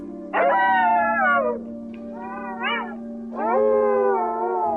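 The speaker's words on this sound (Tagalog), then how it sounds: "maririnig na ang mga alulong" Drawn-out animal howls rise and fall in a horror story setting, three loud, close wailing calls separated by short pauses, heard alone over a steady low hum.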